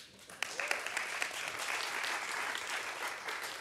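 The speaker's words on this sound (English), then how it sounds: "Can we have a round of applause for John Matthews?" Audience applause at a young water professionals debate, a steady wash of clapping hands from a moderate-sized crowd, fairly faint and sustained for a few seconds.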